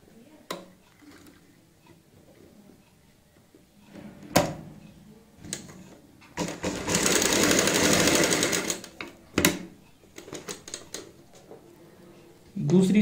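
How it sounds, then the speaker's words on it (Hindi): One sustained run of a sewing machine stitching a cross on a kurti neck, set between scattered clicks and knocks of fabric and machine handling, with soft talk nearby. "इस तरीके से हमने एक सिलाई लगानी है क्रॉस में"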